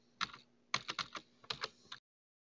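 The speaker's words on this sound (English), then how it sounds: "I'm going to type in this information." Quiet, close keystrokes on a computer keyboard while entering details during embroidery software installation, in three short irregular bursts of taps before falling silent.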